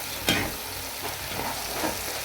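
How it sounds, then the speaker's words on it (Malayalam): Fried chicken being tossed with soy sauce in a hot pan, an even close sizzle punctuated by a few scraping stirs of the spatula. "ചിക്കൻ വറുത്ത് വെച്ചിട്ടുണ്ട് കേട്ടോ"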